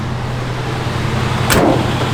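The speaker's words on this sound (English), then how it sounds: "Doors open and close nice." A single solid door shut on a 1951 Chevrolet 3100 pickup truck lands close by about two-thirds of the way through, over a steady low mechanical hum.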